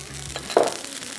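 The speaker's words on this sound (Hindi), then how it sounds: "लहसुन हो गया फ्राई" Garlic frying in a pan for a sweet and sour sauce gives a short, soft sizzle with a brief stir, quiet and close, with no talking.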